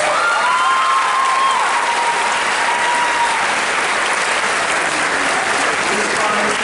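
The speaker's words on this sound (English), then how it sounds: "Let's give them another round of applause, please." Sustained clapping from a large audience at an 8th grade middle school moving-up ceremony fills the hall, steady and dense from start to finish without a break.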